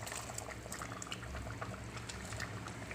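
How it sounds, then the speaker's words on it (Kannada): A pot of water boils for avalakki bisibelebath, a faint, steady bubbling with small irregular pops close by. "ಈಗ ಕುದೀತಾ ಇದೆ"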